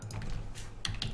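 A short burst of quiet typing on a computer keyboard, a few soft clicks and key taps close to the microphone during a Minecraft session.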